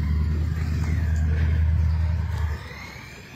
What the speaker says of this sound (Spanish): vamos a ver que son varios vehículos que están pasando ahí